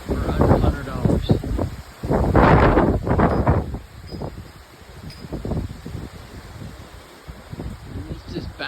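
Strong hurricane wind gusts buffet an outdoor microphone in surging bursts, with rustling and a steady roaring background; loud blasts early on ease into a quieter, continuous blowing.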